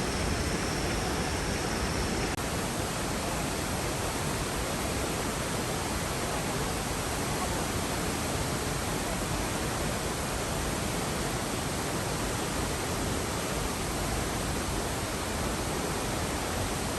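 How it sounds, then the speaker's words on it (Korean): Eongdo Waterfall on Jeju pours with a steady, loud broadband rush of falling water, constant and close throughout with no voices over it. "이제 엉또폭포 해야 돼요."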